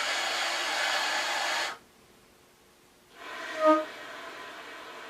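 A fast, hissing stream of air blows through a saxophone, stops for over a second, then returns with a brief reedy squeak, loud and close.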